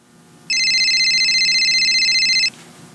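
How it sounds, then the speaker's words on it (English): A telephone rings early in the morning, a loud, steady electronic tone that starts abruptly and holds for about two seconds before cutting off, over a quiet room. "Jean-Pierre wakes up to the sound of a phone ringing"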